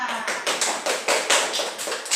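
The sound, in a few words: class applause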